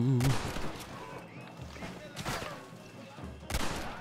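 Gunfire in the Western video game Red Dead Redemption on Xbox 360, with a few sharp shots spaced across a few seconds while background music plays and voices are faintly present.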